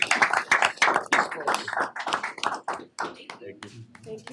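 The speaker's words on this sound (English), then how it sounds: "Just give another round of applause." Applause from an audience at a school Board of Education meeting, steady clapping of many hands lasting several seconds before thinning out near the end, with voices mixed in.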